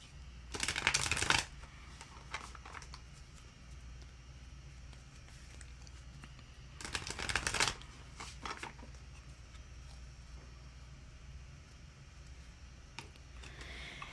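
A tarot deck is shuffled in two short, crisp riffling bursts separated by a long quiet stretch, close and clear.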